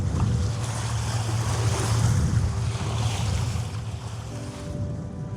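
A catamaran sails through waves in good wind, with a continuous loud rush of water along the hulls, lapping surf and heavy wind buffeting the microphone, close up and without speech.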